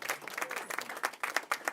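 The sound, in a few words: applause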